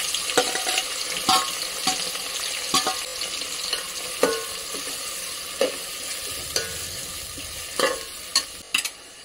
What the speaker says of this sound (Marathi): आता ह्याच्यामध्ये कांदा भाजून घ्यायचा आहे आपल्याला